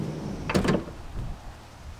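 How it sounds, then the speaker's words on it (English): Sliding side door on a 2020 Coachmen Beyond Class B camper van rolling open, a brief clunk and rattling slide around mid-clip, close and fairly loud, then fading into quiet interior ambience. "sliding this door open"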